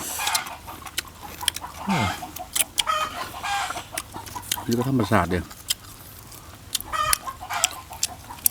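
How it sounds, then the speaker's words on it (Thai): Chickens cluck in a couple of short bursts close by during an outdoor Thai grilling session, with someone talking over them. "เสียงไก่เสียงกา"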